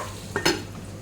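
A spoon stirs stuffed brinjal curry in a pan over a low flame, giving one brief scraping stroke and a clink of metal on the pan amid a soft steady sizzle.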